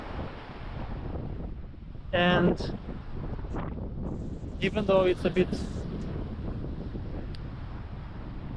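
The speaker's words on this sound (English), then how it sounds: "The wind is blowing like crazy today" Strong wind buffets the microphone on a Mediterranean Sea shore, a constant rough roar with gusty swells. A person speaks briefly over it twice.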